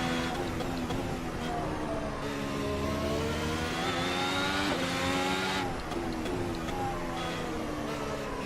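Engine of a 2017 works Ferrari race car in the Assetto Corsa racing game, a steady loud droning whine with shifting pitch as it holds speed, brief gear-change dips, no talk.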